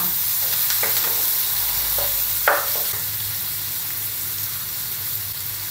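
Onion and bacon stir-fry in a pan for spaghetti carbonara with a steady close sizzle. A few scraping strokes and one sharper clack from the spatula cut through, and no one speaks.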